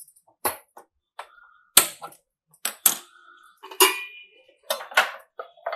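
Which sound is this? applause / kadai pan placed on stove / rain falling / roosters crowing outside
kadai pan placed on stove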